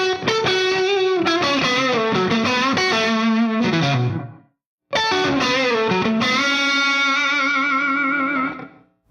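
Distorted electric guitar plays a slow, bending blues phrase with sustained notes and vibrato, pausing briefly before a second singing lick that rings out.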